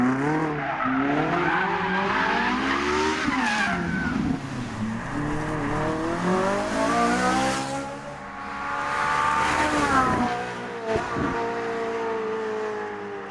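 A Ferrari 458 Italia is driven hard, its engine rising and falling through sweeping revs and gear changes, with a brief tyre squeal, loud and near, and no talking.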